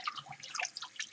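Tap water runs and patters faintly into a container being filled to rinse soap off a 1989 Macintosh Portable circuit board, a quick burst of soft, bright droplet splashes.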